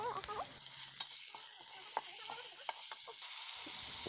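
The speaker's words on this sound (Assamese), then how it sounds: "মাংসখিনি অকণমান সময় ভাজি ল'ম।" Broiler chicken meat fries in a pan with a soft, steady sizzle and scattered crackles, quiet and close, with some faint whining background tones and no speech.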